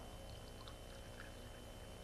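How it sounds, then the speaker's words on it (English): Water poured into a cooking pot while gravy is made, a steady continuous splashing pour lasting about two seconds, close and fairly quiet with no talking. "we're going to put in a cup and a half of water"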